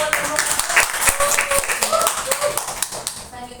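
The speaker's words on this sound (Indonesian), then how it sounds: "kasih tepuk tangan dulu buat kelompok" A class gives a group a round of applause, with scattered, brisk clapping close by as students talk over it.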